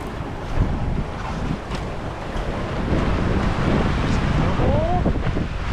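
A Maxi 95 sailboat runs fast under spinnaker, with constant wind buffeting and rushing waves along the hull filling the scene, a faint creak or whistle rising briefly near the end.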